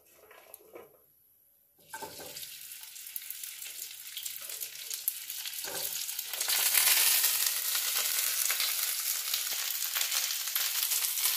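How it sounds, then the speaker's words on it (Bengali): Cauliflower crackles and sizzles in hot oil, starting with a few brief noises before the frying swells into a loud, continuous hiss. "কপিগুলো একটু ভেজে নিচ্ছি।"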